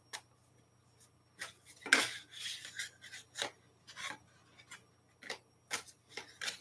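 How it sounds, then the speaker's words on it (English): Tarot cards being shuffled by hand give soft, irregular papery rasps and brushing bursts, close but quiet, with no talking. "let me just shuffle my cards"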